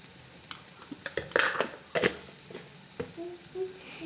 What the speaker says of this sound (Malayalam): ഇനി നല്ല രീതിയിൽ ഇളക്കി യോജിപ്പിക്കാം കേട്ടോ, നല്ല രീതിയിൽ വഴന്ന് വരണം